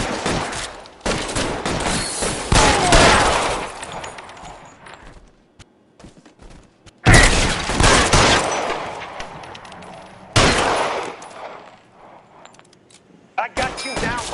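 Gunfire in the crime video game L.A. Noire: loud, close volleys of rapid shots in several dense bursts separated by short lulls, with shouted game dialogue in between.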